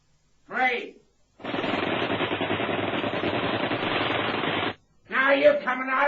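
A long sustained burst of machine gun fire rattles for about three seconds in a radio drama, with short shouted voices just before and after it.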